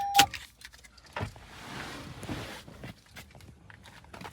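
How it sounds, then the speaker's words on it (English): Car keys jangle briefly as they are pulled from a car, a quick metallic rattle, followed by soft scattered clicks, rustles and footsteps close by. "Get the key out."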